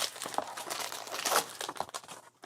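A knife cuts taped-in packages out of a shipping parcel, making close crinkling, crackling and tearing of tape and packaging in uneven bursts, fairly quiet.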